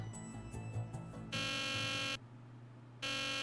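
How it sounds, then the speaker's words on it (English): A harsh electronic alarm buzzer from the video game Nancy Drew: The Deadly Device blares in long loud steady blasts, cutting off for about a second before sounding again, over faint game background. "Why is the alarm going off?"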